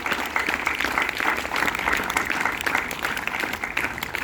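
Students applauding during a school biology quiz competition, a sustained, even crowd clap filling the whole stretch at steady loudness.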